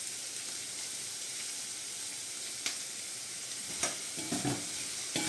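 Sandwich filling fries over a slow flame in a pan, giving a steady, even sizzling hiss with a few faint clinks and stirring knocks near the end.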